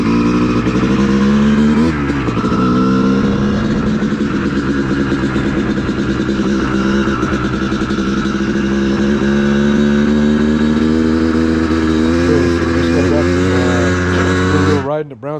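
Honda CR250 two-stroke dirt bike on studded Tusk T-35 rear and Dunlop MX33 front tires riding trails at Brown's Camp, engine loud and constant with rising and falling revs, a voice speaking at times over it.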